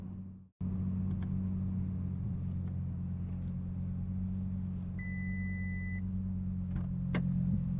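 An Audi RS3 sedan with Haldex all-wheel drive runs on a track, its engine a steady low droning rumble heard close, with a brief dropout at the start and a faint beeping tone partway through.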